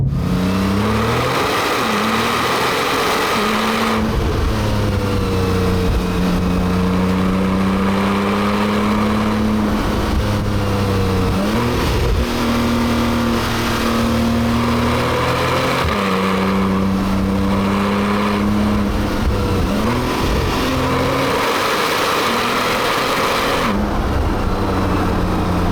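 A 2010 Porsche 911 997.2 Turbo accelerates hard in second gear, its turbocharged engine note rising steadily in pitch through repeated pulls, loud and continuous inside the cabin with no talking.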